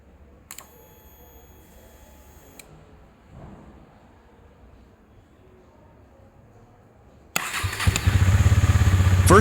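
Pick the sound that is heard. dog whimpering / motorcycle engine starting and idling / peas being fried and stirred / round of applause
motorcycle engine starting and idling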